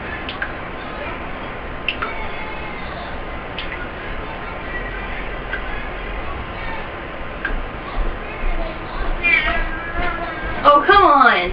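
A cat meows and yowls repeatedly while being bathed, the cries growing louder and more insistent toward the end, with a person talking nearby throughout.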